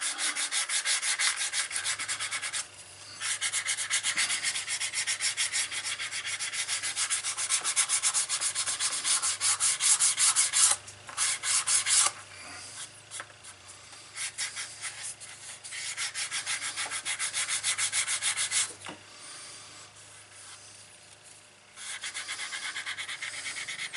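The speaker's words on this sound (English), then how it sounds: "There's my sandpaper. This is just a well-worn piece of 220 grit." A well-worn piece of 220 grit sandpaper rubbed along the edge of a leather card wallet, a close, steady rasping scrub in long continuous strokes with brief pauses, no talk.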